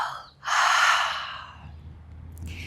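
A long, forceful breath out during a mobility exercise follows a brief pause, with a fainter breath beginning near the end.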